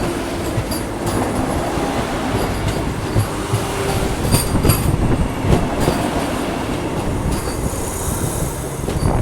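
An ICF-coach express passenger train, the Pune–Amravati Express, runs on rails near Akola Junction with a steady, loud rumble of wheels and car body. Faint clacks and squeals ride on top throughout, with no voices.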